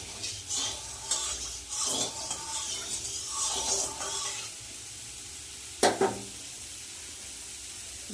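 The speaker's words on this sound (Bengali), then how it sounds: "তেল গরম হয়ে গেছে ডিমগুলো একটু ভাজবো হালকা ভেজে নেব" Eggs lightly frying in hot oil, crackling sizzle with stirring and scraping for several seconds, then a sharp clatter of utensils before quieting to faint background hiss.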